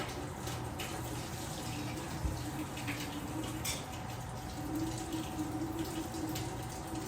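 Warm water runs from a kitchen tap into a pot of canning lids while preparing for pressure canning, a steady, continuous rushing pour that holds at an even level for several seconds with no talking.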